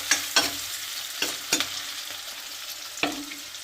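Tomatoes sizzle in a hot pan while being stirred, giving a soft continuous frying hiss broken by several sharp scraping clacks of the utensil, close and fairly quiet.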